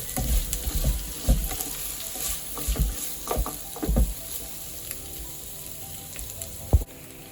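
A spoon scrapes and knocks through drumstick and tomato curry in a hot pan, with a string of close, uneven stirring strokes over a low sizzle and a final sharp clack.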